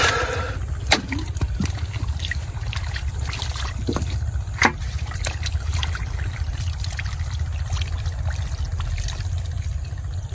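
Water being bailed out of a large drained village pond during fishing, a steady close-up trickling and splashing with occasional sharper sloshes as scoops are emptied.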